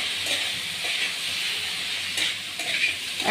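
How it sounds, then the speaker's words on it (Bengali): Vegetables with garam masala fry in a pan, giving a soft, steady sizzling hiss with a couple of faint stirring scrapes. "এটাকে ভালো করে ভেজে নেব।"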